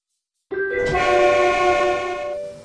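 An electric commuter train at a station in the Trainz 19 simulator sounds a loud, sustained horn that starts abruptly and holds for about two seconds before cutting off.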